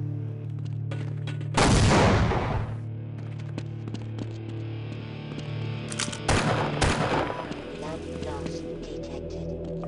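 Gunfire in Half-Life, with two loud bursts of shots a few seconds apart against a steady humming game background, and a voice talking between them.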